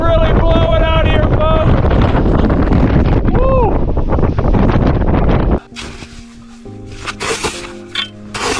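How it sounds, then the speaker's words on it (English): Strong wind roars through a snow trench during an extreme Alaskan blizzard, buffeting the microphone as someone talks excitedly over it, then gusts and rumbles on after he falls quiet. "Oh, it is really blowing out here"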